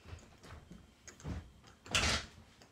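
A door opening as a visitor arrives at a house, heard as a few quiet handling knocks and clicks, then a brief louder swish of the door moving near the end, with no talking.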